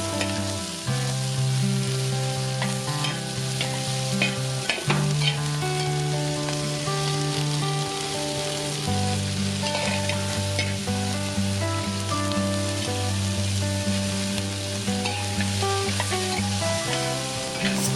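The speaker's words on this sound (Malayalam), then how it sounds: "ചെറുള്ളിയും സവാളയൊക്കെ നന്നായിട്ട് വഴറ്റി അതിൻ്റെ നിറം ഒന്ന് മാറി വരുമ്പോൾ" Shallots, onions and green chillies sauté with rock salt in a pan for a chicken curry. A steady, continuous sizzle runs throughout under sustained background music, with no talking.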